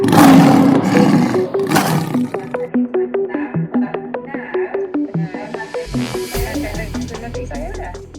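A loud lion roar sound effect opens, a few seconds long and close, then gives way to rhythmic plucked musical notes that carry on to the end.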